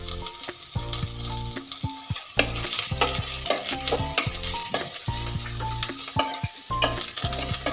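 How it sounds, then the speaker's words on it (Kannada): Onions with kasuri methi (dried fenugreek) fry in a pan for restaurant-style paneer butter masala, a steady sizzle broken by repeated stirring scrapes and utensil knocks, close and fairly loud with no talking. "ಈ ಈರುಳ್ಳಿ ಎಲ್ಲ ಸ್ವಲ್ಪ ಫ್ರೈ ಆಗಲಿ"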